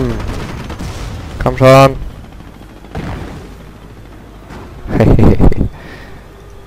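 Gunfire rings out in the Company of Heroes multiplayer strategy game, with two loud, rapid bursts of shots separated by quieter battle noise. Someone talks briefly between them.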